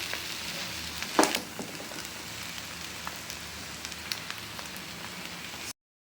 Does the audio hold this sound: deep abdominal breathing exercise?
no